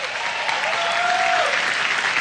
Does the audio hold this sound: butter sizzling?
no